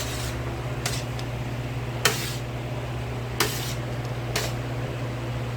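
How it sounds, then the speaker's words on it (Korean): An electric fan runs to cool boiled chicken feet in a kitchen, giving a steady, low mechanical hum, with a few sharp clicks at intervals and no talking. "선풍기를 틀고요"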